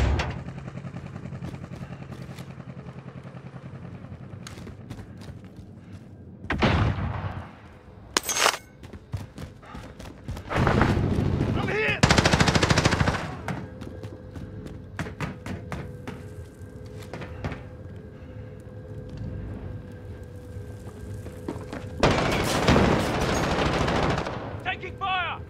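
Bursts of gunfire from the Call of Duty Warzone video game, arriving in several short, loud volleys separated by quieter stretches of ambient game sound, with a few scattered single shots.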